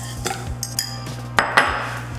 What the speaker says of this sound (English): now I'm just gonna crack my eggs